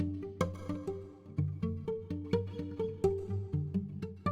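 Renaissance-style sampled instrument from a Kontakt library, played with a muted articulation: a steady run of short, plucked-sounding notes over a low repeating bass pattern, moderately loud with no voice.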